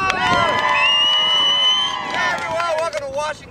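A crowd in Washington, D.C. on Inauguration Day breaks into cheering and whooping on cue, with overlapping high shouts and whistly voices swelling then tapering over a few seconds.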